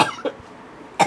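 Three short, close coughs from a person, one sharp burst at the start, a weaker one, then another strong one after a brief quiet gap.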